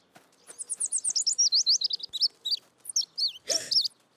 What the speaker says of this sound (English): Look, it's a baby bird.